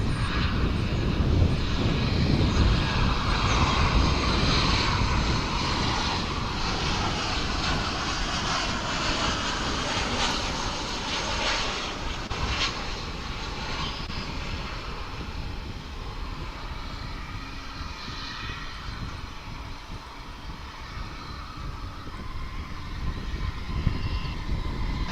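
An airliner's jet engines roar at Dallas/Fort Worth International Airport, a loud, sustained rumble that swells early and slowly fades over about twenty-five seconds.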